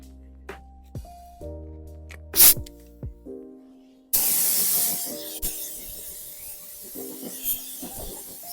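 Spray gun laying down a second coat of paint on MK3 Supra doors and door jambs, steady hissing bursts that start and stop, alongside a background tonal hum.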